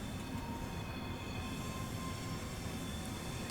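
A Class 385 electric multiple unit in Train Sim Classic rolls over a junction on the Glasgow Queen Street to Dunblane line, giving a steady, quiet low rumble of wheels and running gear with no talk.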